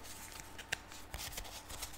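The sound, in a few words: shuffling tarot cards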